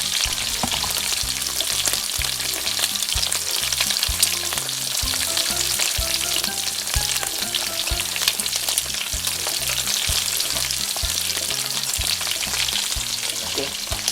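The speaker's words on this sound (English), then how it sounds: "I'm gonna try to flip shrimp over now so it goes great with the oil and will fry very good" Shrimp fry in hot oil for Korean garlic shrimp noodles, a steady loud crackling sizzle with a fast irregular pop and bubble rhythm throughout, no voices.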